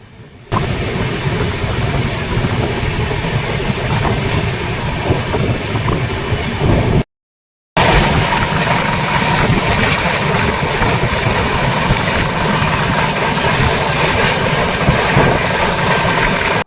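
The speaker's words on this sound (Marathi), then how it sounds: "तर आता ही ट्रेन इथे थांबणार आहे." Train 12362 from Mumbai to Jasidih pulls into Manmad junction, a steady loud rumble of wheels and carriage noise running almost throughout, with a brief drop near the middle.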